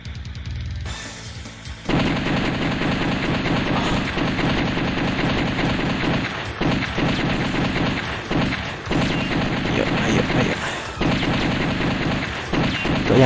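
Rapid gunshots fired at zombies in the arcade shooter The House of the Dead, a dense, loud barrage of repeated shots running almost continuously with brief gaps, layered over game sound.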